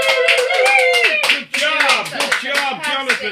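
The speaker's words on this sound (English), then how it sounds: "We'd all like to say a big thank you and a round of applause to Jonathan." A small group claps and cheers for a colleague on a radio show, sharp close handclaps running under loud, overlapping voices that talk and call out over them.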